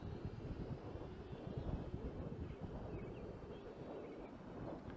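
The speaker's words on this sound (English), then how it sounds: "the wind has picked up quite a bit" Strong outdoor wind buffets the microphone during an RC Cessna 182 micro airplane flight, a constant low roaring rumble with no break.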